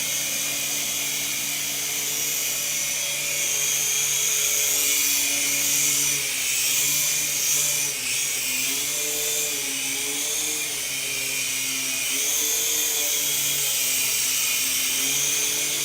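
A small beginner RC helicopter flies with a constant high motor whine and rotor buzz whose pitch wavers as the throttle shifts, steady and close for the whole stretch, with no voices.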